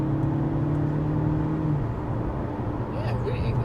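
A 2014 Mercedes C180 AMG Sport, rear-wheel drive, cruising on a quiet road, with a steady interior engine drone and a tone that drops as a gear shifts; a brief voice is heard near the end.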